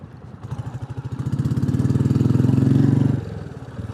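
A three-year-old Royal Enfield Classic 350 motorcycle revs nearby, its engine and exhaust thumping and rising in pitch and loudness, then dropping off abruptly near the end.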